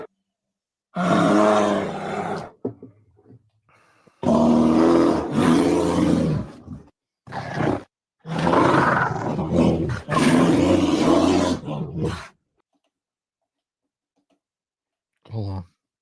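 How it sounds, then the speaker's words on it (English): Played recording of black bear vocalizations: several long, loud roaring, growling bursts of a few seconds each separated by silences, with a short final burst near the end. "Black bear sounds."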